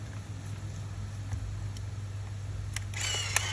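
Back cover of a Fujica Auto-5 film camera being shut, a few sharp close clicks and a brief mechanical rattle near the end over a low steady hum.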